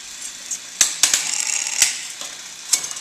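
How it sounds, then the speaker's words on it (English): A bicycle derailleur shifting up and down through the gears gives a handful of sharp, close mechanical clicks at irregular intervals over a faint background, with no voices. "it's shifting smoothly from 1st gear to 2nd gear to 3rd gear and in reverse"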